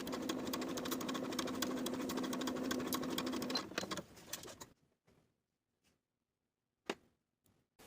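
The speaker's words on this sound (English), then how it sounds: "Sew the darts from the top edge to the point, leaving thread tails at the point so you can tie them in knots." A sewing machine stitches darts on fabric for a vintage 1960s dress, running in a steady close whir that stops abruptly, followed by near silence with a few faint clicks and one sharp tap.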